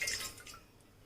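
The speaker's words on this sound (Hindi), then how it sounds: "इसके लिए सबसे पहले आप एक पतीले को गैस में चढ़ा दें और इसमें हम डालेंगे 1 कटोरी पानी।" A bowl of water pours into a pot set on a gas stove, a brief bright splash and trickle that fades within a second, close and fairly soft.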